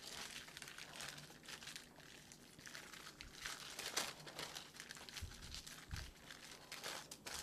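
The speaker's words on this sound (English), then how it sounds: "Take your wax paper, press it down." Wax paper pressed down onto gingerbread dough gives a steady, faint, close crinkling and crumpling that runs throughout with no pauses.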